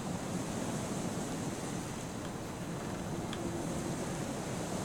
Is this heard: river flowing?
yes